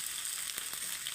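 Ragi (finger millet) dosa batter cooks in an oiled pan, giving a soft, continuous close sizzle with faint crackles and no voices.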